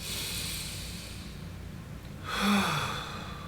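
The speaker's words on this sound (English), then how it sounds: "Let's take a deep breath first of all" One slow, deep breath close to the microphone, a long airy intake or exhale rising to a soft peak near the middle, over a steady low background hiss.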